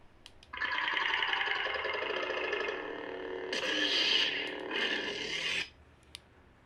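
A SaberForms Anakin Skywalker V2 lightsaber plays its Hunter stacked ignition sound font: a bright, raspy electronic hum that surges on, swells twice with crackling intensity, then cuts off abruptly after about five seconds, loud and close.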